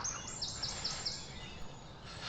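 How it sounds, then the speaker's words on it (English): Faint birds chirp in the English countryside, a few quick high repeated notes in a row over a quiet outdoor hush, distant and soft. "an overhead aeroplane and I can hear birds"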